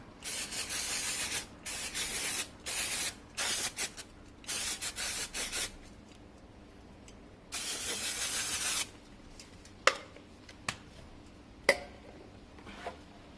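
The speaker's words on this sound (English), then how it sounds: "brake cleaner." Brake cleaner hisses from an aerosol can onto a Suzuki GSX-R 600 K2 motorcycle in close, loud bursts, roughly six sprays of a second or two each, followed by a few sharp clicks and taps.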